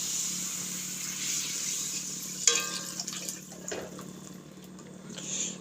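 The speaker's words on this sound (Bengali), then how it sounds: "এর মধ্যে এখন আমি দিয়ে দিচ্ছি জল।" Water poured into fried spice paste in a pan for a Bengali tomato-potato fish curry, a continuous hissing, splashing pour over a steady background hum, with no speech.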